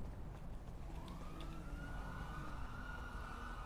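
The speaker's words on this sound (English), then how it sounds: "the fucking sirens are loud as fuck" Police sirens in Los Santos wail continuously, rising and sweeping in pitch over a dense rumble of traffic noise, loud and sustained throughout.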